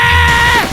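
A loud, sustained scream ringing through a forest, close and piercing, holding a strained pitch before wavering and dropping off at the end, with no other sounds around it.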